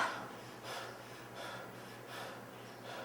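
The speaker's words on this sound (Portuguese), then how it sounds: "eu vou pedir para você fazer uma respiração mais ofegante" Fast, heavy panting breaths repeat in a steady rhythm for several seconds, close and fairly loud, as a person deliberately breathes rapidly in an anxiety hyperventilation exercise.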